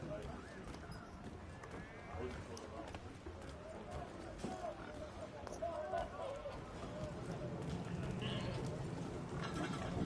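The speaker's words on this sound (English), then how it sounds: "The sheep with the pigs." Sheep and pigs in Assassin's Creed 3, heard as scattered animal bleats and shuffling hoofed movement over a busy, continuous game ambience with talk running throughout.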